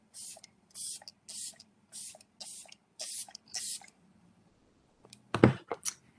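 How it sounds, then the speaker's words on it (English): A facial setting mist bottle sprays in a run of eight short, hissing bursts at an even rhythm, close and crisp, followed by a pause and a few louder clattering handling knocks. "I love the sound of that spray"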